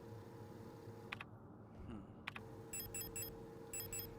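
Repeated electronic beeps sound in the horror video game Signalis, arriving in short quiet clusters of rapid pulses over a low ambient hum, with a few sharp clicks and no talking.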